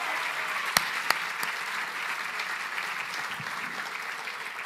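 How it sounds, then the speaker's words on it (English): Gala audience applauding, a dense steady patter of many hands clapping with a couple of sharper claps early on, continuous and moderately loud throughout. "Let's give him a big round of applause."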